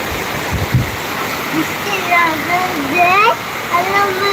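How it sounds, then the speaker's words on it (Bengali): Steady rain pours down in a village at midday, a dense, even wash of hiss running throughout while a person talks over it. "বৃষ্টি"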